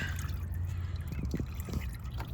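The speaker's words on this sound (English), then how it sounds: "the hose and stuff's just leaking out" Fluid leaking from an unhooked car radiator hose, a close, irregular run of drips and trickling against a low, rumbling background, with no voices.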